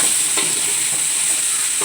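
Shallots and garlic sauté in hot oil with turmeric for kappa biriyani, giving a steady close sizzle with faint stirring scrapes throughout and no voices.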